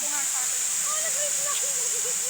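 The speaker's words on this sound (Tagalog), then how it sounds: "Ang ganda ng agos ng tubig" Water rushes steadily with a constant hiss, a faint voice murmuring underneath.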